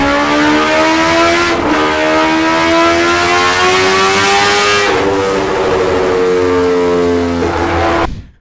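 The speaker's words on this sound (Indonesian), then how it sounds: "Suara knalpotnya tuh garang banget dan bikin merinding." A Kawasaki H2R sport motorcycle's high-revving exhaust roars loudly, climbing in pitch through gear shifts with brief dips, then cutting off abruptly at the end.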